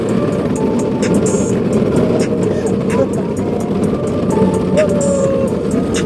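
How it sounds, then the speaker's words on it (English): A simple, cheap electric go-kart runs with a steady, continuous motor whine and road noise. A voice sings or talks over it the whole time. "My car is going down the street, taking corners like it's super slick, leaving trail marks as black as they could be."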